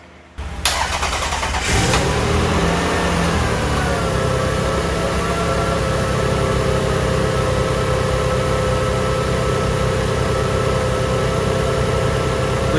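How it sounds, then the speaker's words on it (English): Lexus ES300 engine cranked over and catching, then settling into a steady, loud idle that continues without talk to the end. "now let's try to crank the ES."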